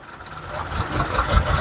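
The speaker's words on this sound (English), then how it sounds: "So you see the change in the engine." A 2006 Mitsubishi engine with a waste spark ignition system idles with a misfire, a close, uneven low rumble with irregular pulses over a brief stretch.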